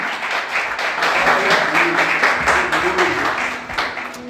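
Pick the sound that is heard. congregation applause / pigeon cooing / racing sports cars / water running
congregation applause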